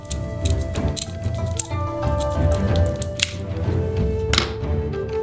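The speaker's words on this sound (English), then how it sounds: "With scissors, we cut the chitin further above." Kitchen scissors snip through the shell of a tiger prawn being prepared for tempura, giving a string of sharp, close crisp clicks and crunches at an irregular pace with no talk.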